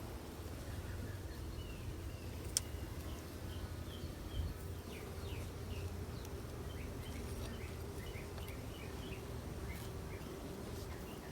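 Honey bees buzz steadily around an open swarm hive during an inspection, a continuous low hum with scattered individual wingbeats passing close by, no talking.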